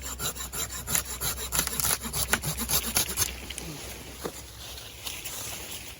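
A handsaw cuts through a larger tree branch during pruning, first undercutting from below, with about three seconds of fast, rhythmic rasping strokes close by that then stop, leaving quiet scraping.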